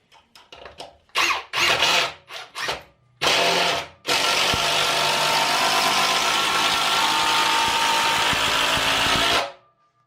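A screw driven by a drill into a Wolfcraft Master 600 work table, several short stuttering bursts of the power tool followed by one long steady whirring run that cuts off abruptly, close and loud with no speech.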